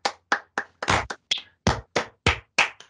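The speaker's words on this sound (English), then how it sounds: "Let's give them a round of applause" Sparse hand claps ring out one at a time, about ten sharp slaps in an uneven rhythm from a small group at a university business pitch competition, close and clear.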